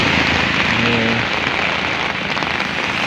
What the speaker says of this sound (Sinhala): මේ වැස්ස එක දිගට මේ දවස් දෙකක් තිස්සේ මේ විදිහම